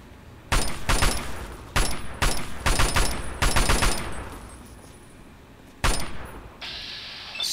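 Bursts of gunfire from a multi-bullet weapon in Fallout 3, loud rapid volleys in several separate clusters with short pauses between, heard without speech.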